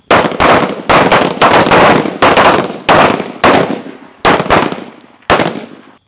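Pistol shots at a night shooting drill at Gunsite, nine loud close reports in spaced pairs and singles, each with a sharp crack and decaying echo.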